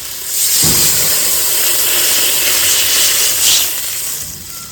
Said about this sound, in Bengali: আমার মানে ঝোলটা ভালো মতো ফুটে গেছে